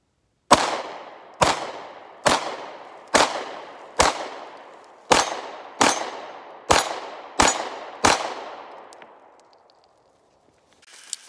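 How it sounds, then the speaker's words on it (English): Ten sharp, loud SIG P365 pistol shots fired at clay and 8-inch steel targets, spaced roughly a second apart, each with a short ringing decay, followed by fading echo and near silence. "finished the 10 shots at the clays and the steel"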